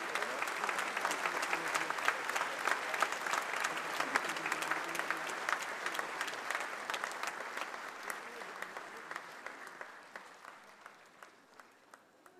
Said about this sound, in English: Let us show our appreciation once again by extending another round of applause to President Susilo Bambang Yudhoyono.